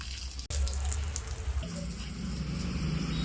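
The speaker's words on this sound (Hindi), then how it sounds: "अम्मा पानी दे रही है लॉन में।" A steady rush of water from a hose as a mother waters the lawn in a garden, running continuously with a brief cut near the start.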